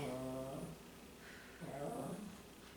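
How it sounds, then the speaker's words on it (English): A dog growls in two low, rumbling bursts a second or so apart, close by in a quiet room. "I apologize for the dog."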